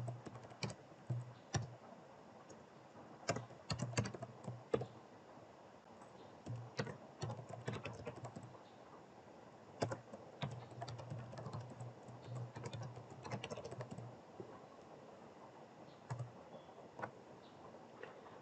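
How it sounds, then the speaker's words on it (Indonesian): Computer keyboard typing at a desk while entering a command in a Laravel project terminal: quick irregular clicks and key taps in bursts, close and fairly quiet, with short pauses between runs and no voices. "ketik perintah PHP Artisan"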